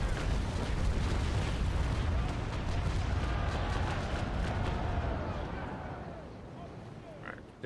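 Ship cannons boom in a Naval Action video game naval battle, a dense, rumbling barrage of overlapping shots that fades gradually toward the end, with a voice talking over it.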